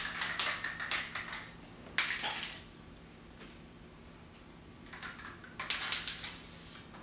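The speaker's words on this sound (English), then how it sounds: "So I'm spraying this kind of on half of it first." A spray can sprays onto a DIY board-game tabletop in three sharp hissing bursts, the first and last longer and the middle one short, with quiet pauses between them.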